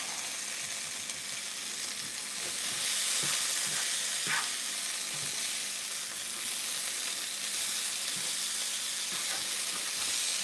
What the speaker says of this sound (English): So we're going to stir this up so it kind of coats a nice light coating on all the meat.